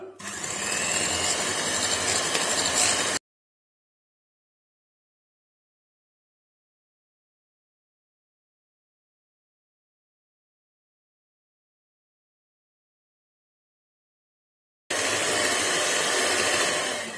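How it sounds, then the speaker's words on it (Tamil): An electric beater whipping homemade cream gives a steady, loud motor whir in two bursts separated by a long stretch of silence. "எலக்ட்ரிக் பீட்டர்ல நம்ம பீட் பண்ணலாம்."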